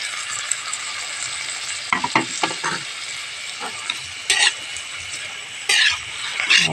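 Squid adobo soaked in vinegar and soy sauce sizzles loudly in a hot pan, a steady close frying hiss broken by a few short stirring scrapes and clatters, with no talk.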